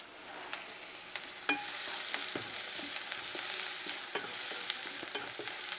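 Cluster beans frying in a pan as they are stirred, a continuous sizzle of hot oil broken by scattered scraping clicks and taps from the spoon, close and steady.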